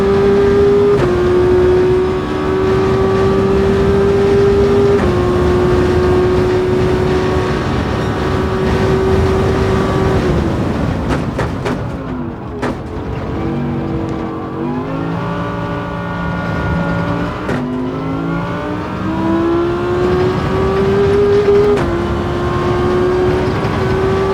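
A car engine revving in the Gran Turismo racing game, loud and sustained with tones climbing and falling through repeated rev sweeps, dipping briefly in the middle before building again.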